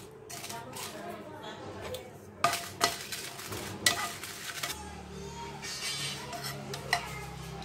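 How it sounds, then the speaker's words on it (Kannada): Guntur dried red chillies roasting in a pan with a little oil, stirred with scattered clinks and scrapes over a soft frying hiss while a person talks. "ಈಗ ನಾನು ಒಂದು 10 ಗುಂಟೂರು ಮೆಣಸಿನಕಾಯಿ ಉರ್ಕೋತಾ ಇದ್ದೀನಿ."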